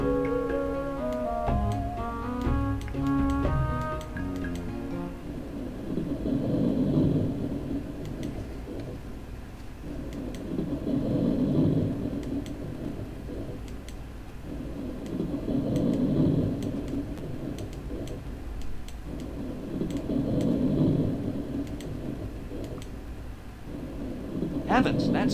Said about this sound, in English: Heavens, that storm certainly appeared quickly.